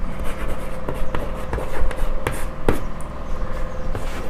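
Pen writing on paper while working a class 9 maths exercise, close continuous scratching strokes with small taps, steady throughout.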